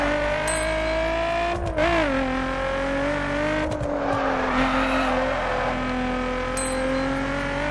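A straight-six car engine in the racing game The Crew holds a steady, slightly whiny drone at high revs. Brief tire squeals and skids cut in now and then, loud and close throughout.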